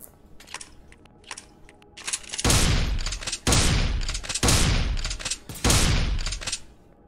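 Alien enemies in a space-base shooter open fire: a few light clicks, then four heavy, roaring gun bursts about a second each, loud and close, separated by short pauses.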